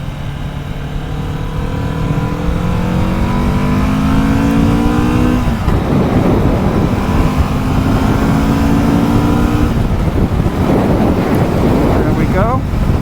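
A 2023 Kawasaki Vulcan S accelerates onto a freeway, the engine pitch climbing through several gear shifts under heavy wind rush on the microphone, with road and wind noise staying loud throughout.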